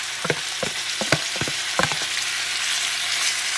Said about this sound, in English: What you're doing is you're searing this so it gets a nice dark color.